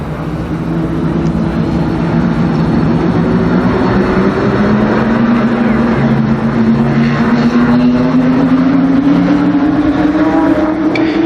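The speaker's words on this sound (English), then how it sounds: "Seven cars, 8 laps. The Limited Sportsman second heat race." Limited Sportsman race cars in a heat race at a speedway roar past in a loud, continuous pack, their engines droning and slowly rising in pitch with no voices over them.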